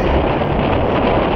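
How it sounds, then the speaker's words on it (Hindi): A strong gust of wind roars across a mountain peak in Himachal Pradesh, near Dainkund, buffeting the microphone with a loud, steady rush throughout. "एकदम से अभी बीच में एक और तेज झोंका आएगा"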